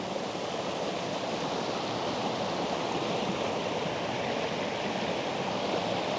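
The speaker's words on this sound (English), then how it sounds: "Trick I've learned when you're filling up water or a bottle of water." A forest creek in a rainforest rushes steadily and fairly loudly as water is collected into a bottle, a continuous broad watery wash with no distinct splashes standing out.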